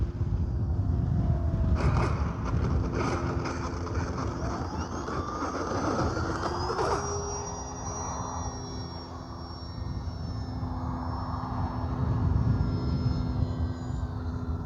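An Arrows RC Sky Cruiser model airplane comes in to land in a crosswind. Its motor whine rises and falls and glides in pitch over a steady outdoor background, with no one talking.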